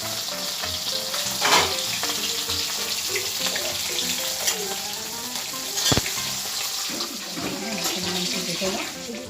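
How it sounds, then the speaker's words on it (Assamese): Fish frying in hot oil in a pan makes a loud, dense sizzle throughout, with a few sharp clatters and pops rising above the steady crackle. "এইফালে মাছ ভাজি আছে মায়ে"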